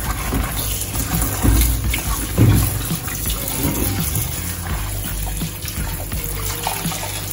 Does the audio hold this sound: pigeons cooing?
no